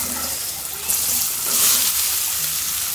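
Dried red chilies fry in hot oil for a homemade pickle, a continuous hissing sizzle that surges briefly louder midway, with no voices over it.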